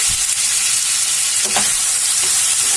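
A green chili hitting hot oil in a pan while cooking matar paneer, giving a loud, continuous close-up sizzle with faint stirring scrapes and no talking.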